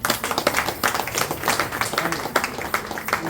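Audience clapping at a Ganesha bhajan, a brisk run of overlapping hand claps with irregular rhythm, fairly close and loud, with some voices underneath.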